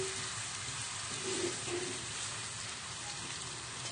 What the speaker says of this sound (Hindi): हम हल्का ब्राउन होने तक के अच्छे से भून लेंगे